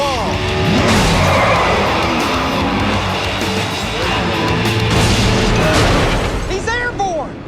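Stunt car driven by stunt performer Danielle Burgio crashes into a wall, a loud sustained roar of impact and crunching with bursts and pops, layered under voices and music-like tones throughout.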